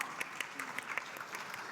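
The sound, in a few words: audience applause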